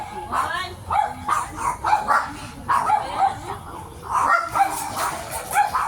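A dog barks and yips repeatedly in quick, excited bursts close by, mixed with whimpering, against background noise.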